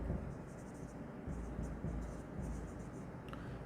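Chalk or marker taps and scratches faintly across a board, writing out a closing stock figure in a few short strokes, over a low room rumble.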